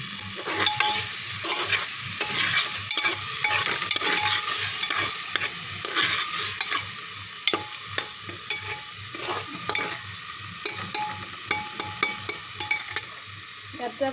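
Lentils are stirred and fried in a pan, producing a continuous sizzle broken by repeated scraping and clattering strokes of a spoon against the pan, close and fairly loud.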